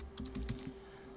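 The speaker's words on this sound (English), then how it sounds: "you can just start typing" Typing on a computer keyboard while setting up embroidery lettering in design software: a quick run of about six close, light key clicks, then a low steady hum.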